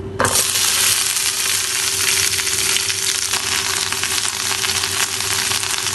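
Okra hitting hot mustard oil in a pan bursts into a loud, dense sizzle that holds steady and close, with faint crackles and a low steady hum underneath.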